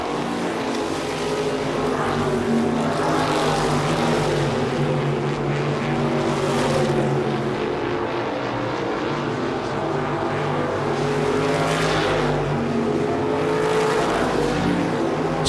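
Modified race cars lap Lee USA Speedway in a racing series event, their engines roaring loud and continuous as cars sweep past in rising and fading surges.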